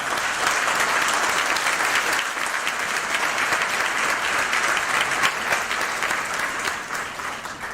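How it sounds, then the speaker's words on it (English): Crowd at a Wake Tech nursing pinning ceremony applauds the graduating class of 2022, dense continuous clapping that stays loud and steady, tapering slightly near the end. "Let's give them a round of applause."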